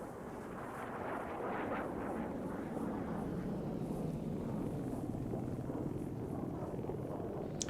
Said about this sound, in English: Damn, that jet is going properly fast